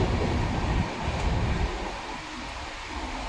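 Interior of a moving passenger train on a long-distance journey, with a steady loud rumble and rattle of the carriage, slightly easing partway through.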